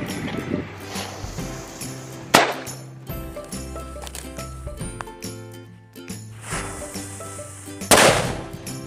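A Happy Flower ground firework crackles and pops in a rapid, uneven stream of sharp bangs, with two louder bursts standing out, fairly close by.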